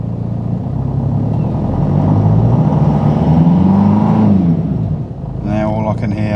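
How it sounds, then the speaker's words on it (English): A Jeep engine runs steadily at close range after its idler pulleys were replaced, giving a continuous low rumble with a turbo whine over it, while someone talks across the sound. "Now all I can hear is the turbo, which is good."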